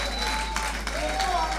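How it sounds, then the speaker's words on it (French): Audience applause at a comedy open-mic show in Bukavu, a brief burst of clapping from a crowd, moderately loud and steady for under two seconds. "Des applaudissements"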